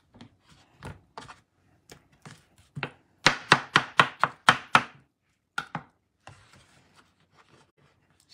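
A knife cuts through cantaloupe on a board in scattered, soft thuds, then a quick run of about six crisp, rhythmic slices, followed by a few lighter cuts trailing off.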